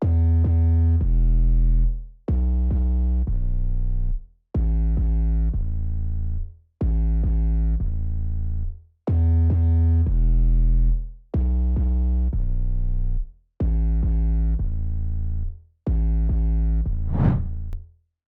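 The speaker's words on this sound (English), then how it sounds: "they had like an 808 bass playing with a lot of distortion on it" A deep, distorted 808 bass synth plays a repeating line of eight sustained notes with short gaps between them, loud and alone, ending with a brief sweep.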